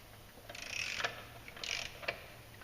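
Torque wrench ratcheting on a clutch bolt of a 2016 Polaris RZR Turbo during a clutch kit install. Two short bursts of close mechanical clicking, each ending in a sharp tick, with no talk.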